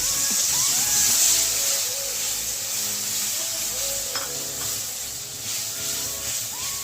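Spice paste for Bengali mutton kosha frying in oil in a pan as a little water is added, giving a steady close sizzle and hiss with scraping stirring strokes throughout.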